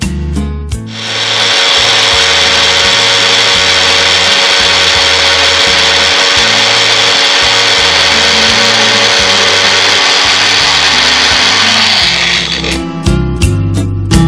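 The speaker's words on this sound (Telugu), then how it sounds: "మినపప్పు, నల్ల మినపప్పు ఇవన్నీ వేసుకొని ఇప్పుడు మనం మిక్సీ చేసుకోవాలి" A mixer grinder grinds coconut, urad dal and black urad dal into a dry masala powder, a loud steady whirring roar with rattling pulses that runs for about twelve seconds, then stops and restarts in a few short bursts.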